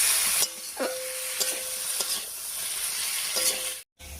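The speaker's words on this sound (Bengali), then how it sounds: "আমি সব কিছু ছয় সাত মিনিট মতো কষিয়ে নিয়েছি" Soybean chunks and boiled potatoes with spices sautéing in a pan, a continuous sizzle with a few sharp spoon scrapes and taps, ending in a brief cut to silence.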